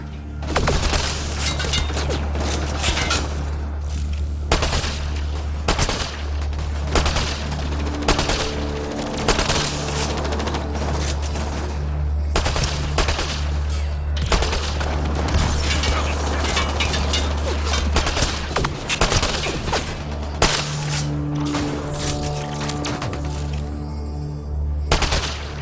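Sustained sci-fi gunfire in a firefight against the Kett on the planet Voeld, rapid bursts and booming impacts layered over a low droning score, loud and nearly continuous.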